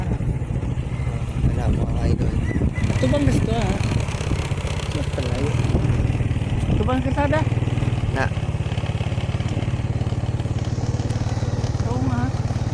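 A motorcycle engine running close by, a steady low idling rumble that persists throughout while people chat over it.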